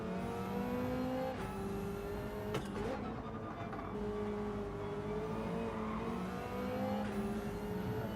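A BMW race car in Gran Turismo 7 at the Autopolis circuit, in a Gr.2 time trial, revs hard through repeated upshifts, its engine note climbing and dropping at each gear change, loud and close with no talk.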